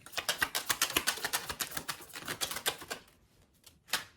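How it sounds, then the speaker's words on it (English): Tarot cards being shuffled, a rapid run of crisp close riffling clicks for about three seconds, then a short pause and one final burst of shuffling. "So as I'm shuffling"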